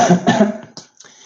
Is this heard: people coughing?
yes